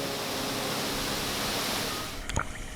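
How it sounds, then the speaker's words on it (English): Cedar Creek Waterfall near Mackay in Queensland, a steady loud broadband rush of falling water that continues throughout, with a brief clatter near the end. "Now here I was at another one. Cedar Creek Waterfall, located just a 30-minute drive outside"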